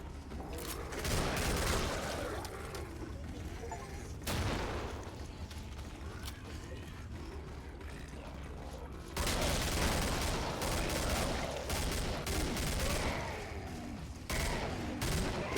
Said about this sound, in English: the recoil on this gun fucking sucks